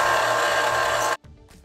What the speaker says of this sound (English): So I'm just gonna knock it off by sanding it.